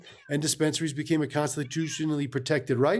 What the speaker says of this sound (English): If you hear some meowing in the background